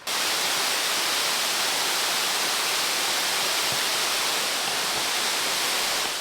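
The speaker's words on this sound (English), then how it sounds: "So this must be a really tall waterfall because I can't see anything" A tall waterfall near Suchitoto, El Salvador, heard from the top of the drop as a loud, steady, broadband rushing roar that holds unbroken throughout with no voices.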